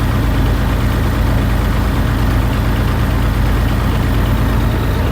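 An infantry fighting vehicle (BMP) engine runs steadily at idle alongside its coolant heater, a loud, continuous low rumble with no pauses or voices.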